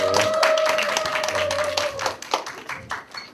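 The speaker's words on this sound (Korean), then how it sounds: "우리 격려의 박수 한번 하겠습니다" Brief clapping rises from a church congregation at a Sunday college-group worship service, short and light under a held tone, thinning into scattered claps and fading out within a few seconds.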